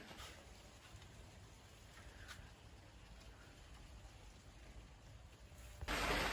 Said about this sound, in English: And what do you know, it just started raining.